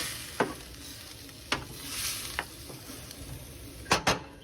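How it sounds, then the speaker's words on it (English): Roux stirred into a pan of chicken hearts sizzling steadily, with soft stirring and a few sharp clicks of a utensil against the pan. "we're going to add that roux into that pan with the hearts"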